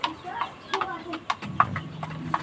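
Hens and a rooster held in a cage give soft, intermittent clucks and short calls at close range, mixed with light shuffling, while someone talks nearby.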